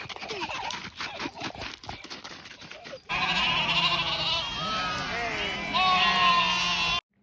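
A flock of sheep and goats bleats loudly and continuously in a village farm field, with overlapping cries close by after people talk briefly at the start.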